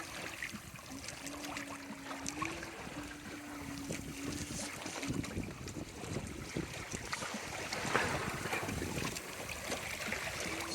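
A sailboat moves through a channel off Vancouver Island, with steady broadband wind and water rushing past, a continuous hiss and wash that swells slightly near the end, plus a faint low tonal hum in the first seconds.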